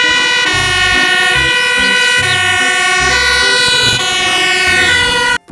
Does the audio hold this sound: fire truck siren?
yes